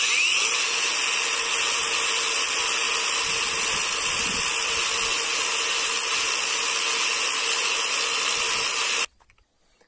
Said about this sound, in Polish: Sprawdzimy, czy prędkość obrotowa szlifierki zgadza się z tym, co jest podane na opakowaniu.